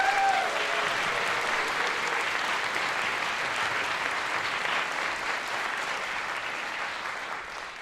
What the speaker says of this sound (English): Give that whole list a big round of applause.